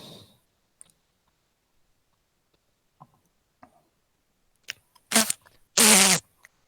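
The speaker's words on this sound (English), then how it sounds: "You can make fart sounds with those." Fart noises from units in a real-time strategy video game, two loud raspy bursts near the end that follow scattered faint clicks and ticks over near silence.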